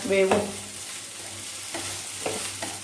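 Okra fries in a pan for a fish tamarind curry with a soft, steady sizzle, broken by several scraping stir strokes, close by and with no one talking.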